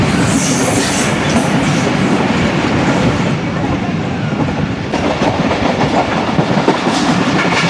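A Pak Business Express train rolls past Shahdadpur railway station, its steady loud rumble and rattling wheel clatter continuous and close throughout, with a brief squeal of wheels partway through.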